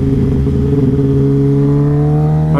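Kawasaki ZX10R motorcycle engine on a touchy throttle, a loud steady rumble with strong harmonic tones that rise in pitch toward the end as the revs climb, heard close and alone.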